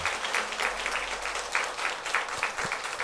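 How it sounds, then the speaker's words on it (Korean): A church congregation gives warm welcoming applause to honoured guests, a steady wash of many hands clapping at moderate distance throughout, with a few louder claps standing out. "우리 환영의 박수 따뜻한 마음으로 보내드리도록 하겠습니다"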